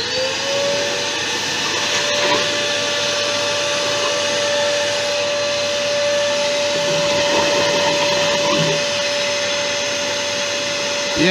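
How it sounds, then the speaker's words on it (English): A vacuum cleaner sucks wood shavings out of a Thai redwood vase being turned, a loud, steady whine that holds unbroken throughout, close by, with occasional faint knocks from the nozzle inside the wood. "hoover out in there again"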